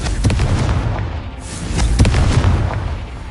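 Booming spell explosions from the Confringo blasting spell in the video game Hogwarts Legacy, sounding as loud repeated thuds and bursts over dense rumbling game noise.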